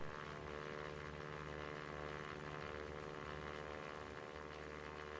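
A propeller airplane engine drones steadily as it gathers speed in Flight Simulator, a continuous humming tone with a strong low rumble, even in level and alone with no talk.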